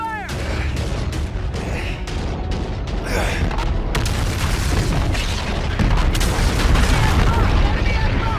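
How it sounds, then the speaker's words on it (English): Ship guns and missiles fire in Call of Duty: Infinite Warfare as heavy booms and mechanical bursts over a dense, loud battle rumble, with shouted commands mixed into the noise. "Concentrate fire! Concentrate fire!"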